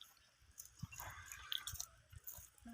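People eating roasted groundnut pods at an outdoor farm gathering, soft crunches and cracks of shells being bitten and chewed, faint and close, scattered irregularly.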